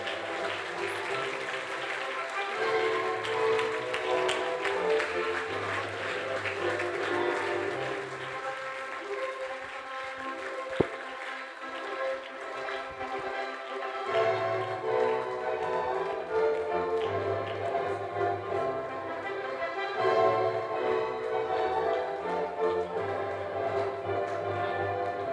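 Wedding guests clap as the bride makes her entrance, a sustained crowd applause that runs throughout alongside music, fairly even in loudness with a brief sharp tap near the middle.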